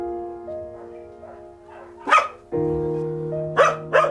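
Young puppies in a kennel letting out several sharp yips and barks in quick bursts, close by, over a background of sustained tonal sound.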